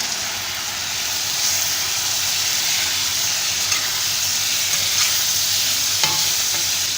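Beef liver with tomatoes and vinegar frying on a tawa gives a loud, dense, continuous sizzle, with a few faint scrapes of stirring under the hiss.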